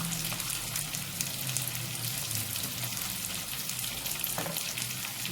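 Onions frying in a pan until brown for a Punjabi chole bhature dish, giving a steady, soft sizzle that holds evenly throughout with no talking.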